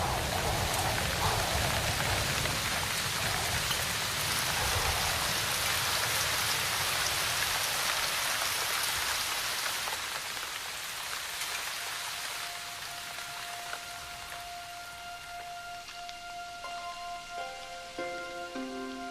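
Heavy rainstorm drenching a jungle forest, dense loud hiss of rain on foliage that eases slightly toward the end as faint steady tones rise beneath it, continuous and close.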